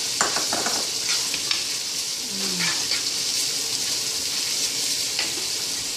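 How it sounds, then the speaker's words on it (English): Chow mein stir fry with a splash of hot sauce sizzles in a pot as it is stirred around, a steady hiss with scattered scrapes and light clinks of a utensil, close up and without talking. "So I'm going to add this, stir it around,"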